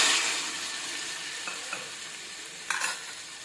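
Tomato puree from two tomatoes sizzling in a pan of fried onions for dum aloo biryani, a soft steady fry with a couple of brief stirring scrapes near the end.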